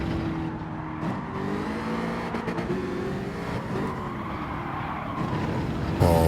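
A Gr.3 race car in Gran Turismo 7 drones steadily at high revs, its engine note dipping and rising through gear changes and braking, with a sharp rev surge at the end.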